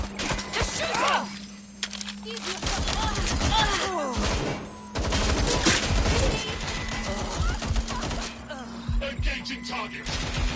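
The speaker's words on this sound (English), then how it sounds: "They're shooting!" Gunfire in the video game Watch Dogs Legion crackles in dense bursts and scattered loud shots amid thuds and action noise, with character voices over it.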